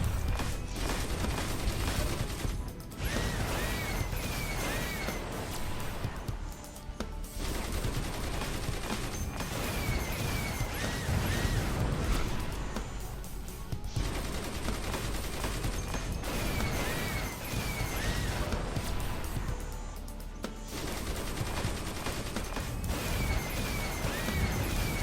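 Chain gun and railgun fire from the online superhero game DCUO, dense continuous rattling shots and impacts in a loud unbroken barrage with occasional short lulls.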